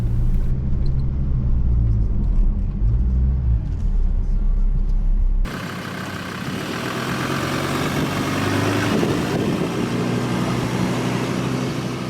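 Car driving in sand with tyres at 40 psi, heard from inside the cabin: a steady low engine rumble and drone, loud and continuous, with the tone shifting partway through as the engine works harder.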